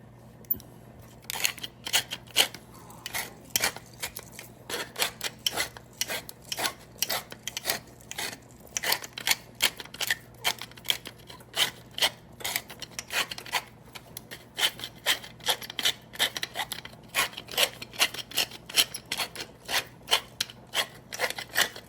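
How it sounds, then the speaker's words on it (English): Fresh black pepper cracked in a grinder while cooking tomato soup with prime rib, a long run of quick, rasping crunches in steady bursts, close and fairly loud, with no talking. "fresh cracked black pepper."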